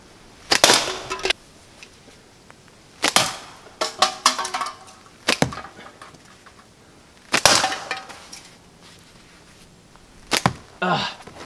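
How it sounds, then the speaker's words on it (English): A slingshot drawn and snapped off in quick succession outdoors in freezing cold, about six sharp broadband cracks and whips of released bands, some in quick doubles, spaced irregularly with no talking. "I'm drawing, pulling forward on it, and then snapping the slingshot out and releasing all at the same time"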